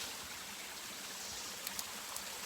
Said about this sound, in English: and I can hear